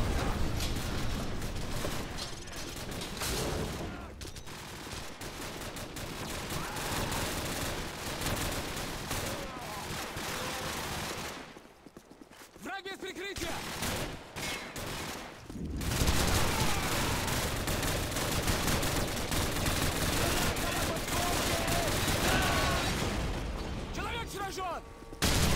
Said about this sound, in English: We're taking some fire up here at the vehicle depot.